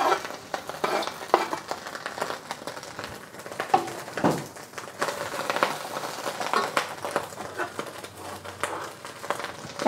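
Chinese sausage and pork belly sizzle and crackle in hot avocado oil with bursts of stirring and scraping, a steady close frying hiss throughout with no talk.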